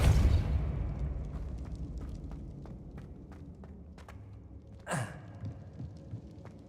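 A Depulso spell fires in Hogwarts Legacy on Xbox Series X: a low, heavy burst opens, light clicks and steps follow, then a sharp whooshing sweep cuts through near the end.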